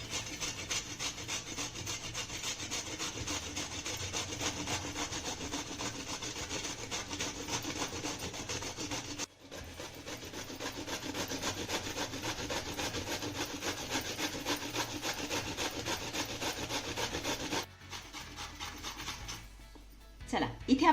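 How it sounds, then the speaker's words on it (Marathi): An unpeeled bottle gourd is rubbed against a grater in continuous, fast rasping strokes, close and steady, with two brief pauses and a faint clatter near the end. "तर यावरची साल न काढताच भोपळा मी किसून घेतेय."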